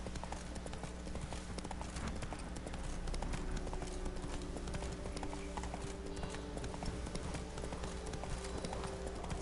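Horse hooves gallop in The Witcher 3 video game, a steady, rhythmic clip-clop of hoofbeats that continues throughout, with faint in-game sounds underneath.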